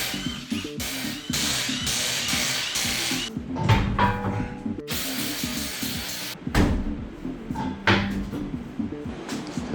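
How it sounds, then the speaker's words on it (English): Tools clatter and ratchet while the front wheels come off a jacked-up car on stands, giving loud, close mechanical clicks, clanks and bursts of metallic rattling with brief pauses between them. "next thing, we gotta take off the front wheels"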